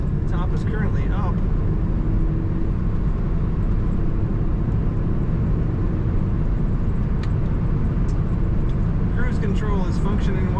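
A 2001 Honda S2000 convertible with the top up, its engine rumbling steadily inside the cabin at moderate loudness, with a voice talking over the drone.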